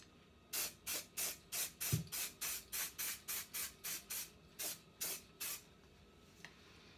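A spray can hisses onto a cut-out paper template for a Moto Guzzi Griso custom seat, fourteen or so short even bursts in a steady rhythm, close and clear with no talk.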